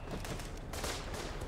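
Gunfire from a World War I trench shooter, a dense run of overlapping shots rattling continuously through the whole moment under a noisy battlefield bed, fairly quiet overall.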